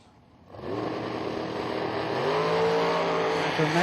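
A drag racing dragster at a strip running at 154 mph, with a loud engine roar that starts abruptly and holds steady for several seconds, its pitch slowly shifting.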